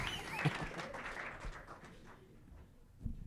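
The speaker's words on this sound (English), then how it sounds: "Let's give him a round of applause." A small audience claps at a business talk, a soft broadband patter that thins out over a few seconds and then swells briefly near the end, heard at low level and somewhat distant.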